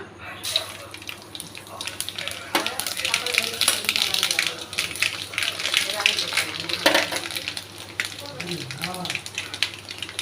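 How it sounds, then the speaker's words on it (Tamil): Mustard and fenugreek seeds splutter and crackle in hot oil in a pan, a dense continuous popping close by, with a person talking over it. "கடுகு வெந்தயம் நல்லா பொரிஞ்சிச்சு"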